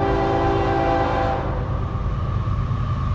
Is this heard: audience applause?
no